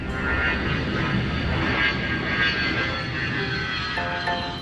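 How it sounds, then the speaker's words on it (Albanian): A cartoon airplane's engines start up and build into a steady droning roar for takeoff, moderately loud and continuous, with no voices. "I ndezi motorët."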